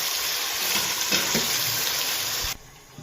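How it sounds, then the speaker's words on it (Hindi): Mixed vegetables, potatoes, peas and carrots, frying with onions in a pan sizzle steadily and close, with a few stirring scrapes, before the sound drops off abruptly near the end. "अगर आप लोग इसको पहले अच्छी तरह प्याज के साथ ही फ्राई कर लोगे।"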